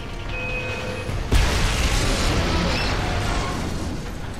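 A grenade goes off in the video game Homefront, one sudden loud boom followed by a long rumbling roar of debris and wash that fills the rest of the moment.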